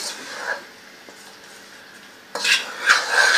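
Black pepper chicken is stirred in a pan, a spoon scraping and clattering in a short burst, then a quiet pause before louder, busier stirring resumes.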